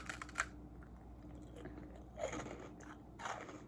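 Crunchy freeze-dried candy chewed close to the microphone, with several bursts of brittle crunching spread across the clip over a low steady hum.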